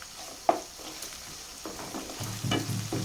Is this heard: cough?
no